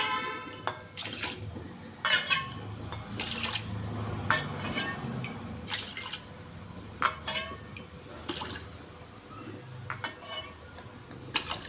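Water is poured glass by glass into a pot of red rice for cooking, with repeated splashing pours separated by short pauses and light clinks of the glass against metal.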